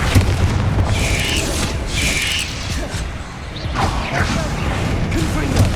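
Spellcasting in Hogwarts Legacy, a dense run of booming magical blasts and whooshes with mechanical clatter, several bursts over about six seconds filling the foreground with no talk.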